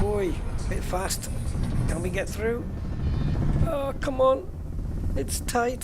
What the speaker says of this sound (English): You could hear the engine in the background.